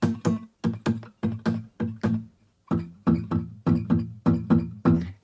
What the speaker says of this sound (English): there's no note to it, it's just kind of like a percussive click.